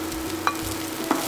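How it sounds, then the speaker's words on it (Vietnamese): A steady, close sizzle of crushed, minced scallions frying in hot oil, with a couple of light stirring clinks over the constant hiss. "khi dầu nóng, cho đầu hành lá đập dập băm nhuyễn vào"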